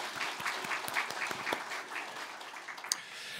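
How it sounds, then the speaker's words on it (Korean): A church congregation claps together in encouragement, a fairly soft, even patter of many hands with a few sharper individual claps standing out. "모든 차세대 부서가 2025년에는 더 힘내라고 우리 모두 박수로 한번 격려하겠습니다"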